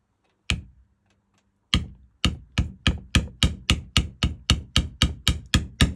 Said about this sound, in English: Now I'm just going to bevel in really quick the petals.